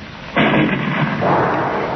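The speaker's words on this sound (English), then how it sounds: "there sounds again the distant thunder of the destructo cannon" A destructo cannon fires as a radio drama effect, a deep sustained rumble like distant thunder that swells suddenly and rolls on heavily without pause, with no voices over it.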